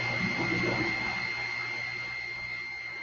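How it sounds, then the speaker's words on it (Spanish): A laboratory pump in a process engineering lab starts up and settles into a steady mechanical hum with a high whine, loud and continuous, with some rattling at the start that fades into an even drone. "Acabo de encender la bomba"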